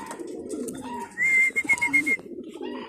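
Racing pigeons landing at their loft coo up close, a short run of soft throaty coos over a low background murmur.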